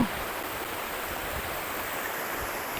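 Daranak Falls in Tanay, Rizal pours with a steady, loud broadband rush of falling water, continuous and close with no breaks.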